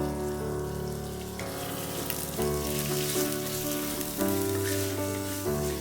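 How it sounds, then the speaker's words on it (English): Ginger garlic paste fries on a high flame for a mutton curry, giving a steady, close sizzle that runs the whole time beneath prominent background music. "We'll fry it for 5 minutes on high flame."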